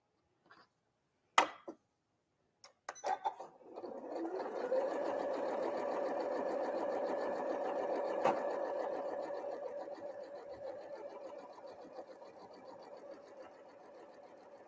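A few clicks and taps come first. Then a sewing machine stitches diamond star quilt block pieces in a steady, sustained hum that slowly fades toward the end.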